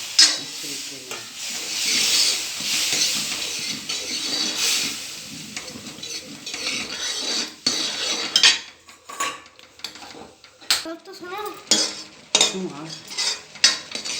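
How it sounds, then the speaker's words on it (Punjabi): Semolina being stirred into sugar syrup in a pan for halwa, made without ghee. A bright hissing sizzle is heard at first, then the scrape and clatter of a spoon against the pan in uneven bursts, with no talking. "ਚਾਸ ਦੇ ਵਿੱਚ ਆਪਾਂ ਹੁਣ ਸੂਜੀ ਪਾ ਦੇਣੀ"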